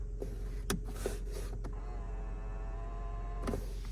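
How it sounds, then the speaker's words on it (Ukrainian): A few sharp clicks, then a Skoda Octavia's electric mirror adjustment motor whirs steadily for a couple of seconds before stopping with another click. "Регулювання дзеркал"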